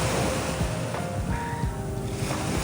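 Sea waves surging and washing on Miligabiga Beach, a loud, close, broadband rush of surf with gusty wind buffeting the microphone and no talking.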